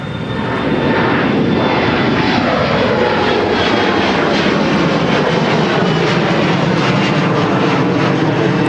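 An airliner taking off from MSP Airport bound for Rochester roars loudly and close, a powerful sustained engine thunder that swells in the first second and stays strong throughout.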